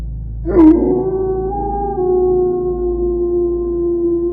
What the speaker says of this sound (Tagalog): Narinig ni Marita ang malakas na ungol ng aso